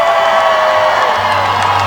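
A crowd in packed grandstands at a 2021 Renegade truck pull at the West End Fair in Gilbert, PA gives off a loud, continuous roar of cheering. The wash of voices is dense and sustained, with a low hum underneath.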